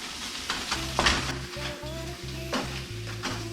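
A spatula stirs food frying in a pan for a low-carb meal, giving a steady sizzle broken by repeated scraping strokes at a quick, even rhythm.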